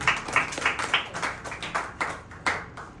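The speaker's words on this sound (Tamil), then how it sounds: "கைத்தட்டி ஆண்டவர் மகிமைப்படுத்தலாமா?" A church congregation claps their hands in a brisk, even rhythm of about three claps per second. The clapping is moderately loud and close, with no other sound over it.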